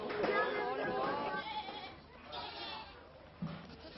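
Young goats at a farm bleating a few times amid chatter and children's voices, the animal calls mixed with talk at moderate distance.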